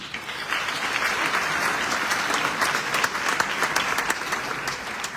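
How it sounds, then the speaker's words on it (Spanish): Steady applause from a crowd at a political commemoration event, dense and continuous clapping at moderate distance, holding evenly for several seconds with no speech over it. "acá el saludo y el aplauso"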